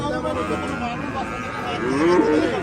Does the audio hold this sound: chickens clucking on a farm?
no